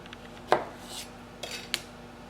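A knife slices through a small round red beet on a cutting board, giving a few sharp, close clicks and scrapes spread over a couple of seconds, with a short rasp in between.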